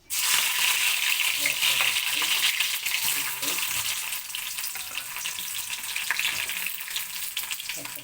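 Mustard seeds and green chillies fry in a hot pan with a loud, continuous close sizzle and scattered crackles and pops throughout.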